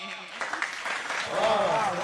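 Audience clapping at a Hindi poetry gathering (kavi sammelan), a burst of applause that swells and carries on, mixed with crowd murmur and voices.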